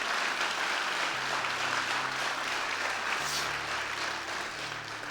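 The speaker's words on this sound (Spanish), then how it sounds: "Dale un fuerte aplauso al Señor." A church congregation bursts into applause, a dense steady clapping that fills the room for several seconds, moderately loud, over a low sustained organ or keyboard tone.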